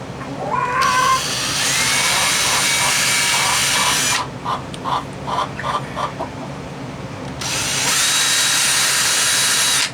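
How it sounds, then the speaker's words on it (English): A power drill with a small bit whines loudly and steadily drilling through wood on a shade house, pausing midway for a few short bursts before running continuously again, close by. "So I'll be drilling through here like this."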